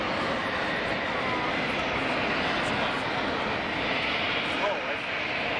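A loud, steady roar from an aircraft hovering at the Chicago Air and Water Show fills the clip without letup, heard from the crowd at fairly close range.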